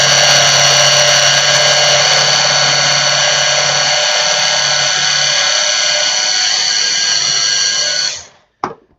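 Loud, steady whine of a food processor motor running close by for about eight seconds, then cutting off and spinning down, followed by a brief clatter.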